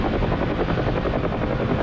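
A helicopter in the DCS flight simulator video game drones loudly and steadily, its rotor thumping in a continuous close-up roar throughout.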